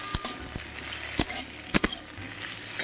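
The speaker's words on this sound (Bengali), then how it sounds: "তো আরও কিছুক্ষণ এরকম নাড়িয়ে চাড়িয়ে নেব আলুগুলো।" Potatoes sizzling as they fry in a kadai, with a steady hiss and a few sharp scrapes and clinks of a spatula stirring them; no talking.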